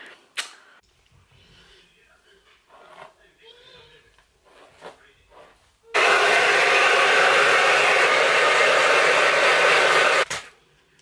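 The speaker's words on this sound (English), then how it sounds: "then I'm gonna blow dry it and get all nice and fancy for you" Hair dryer blowing on hair, starting suddenly after quiet handling noises and running loud and steady for about four seconds before cutting off.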